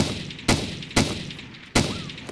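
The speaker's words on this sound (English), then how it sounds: "me shooting" Three sharp, loud gunshots in DayZ Epoch, evenly spaced about half a second apart, each cracking out over a quiet background.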